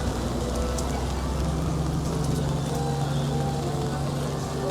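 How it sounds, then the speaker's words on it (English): Rain patters steadily on an umbrella overhead at Disneyland, a dense, continuous hiss of drops with a low rumble underneath. "Isn't just the sight of a raindrop hitting a puddle beautiful, and then the sound of it on the umbrella?"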